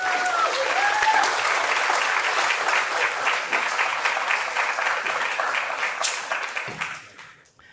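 A lecture audience gives sustained, dense applause as Professor Martin Brook is welcomed onto the stage for a geoscience talk. The clapping holds steady for several seconds, then tapers off and stops abruptly.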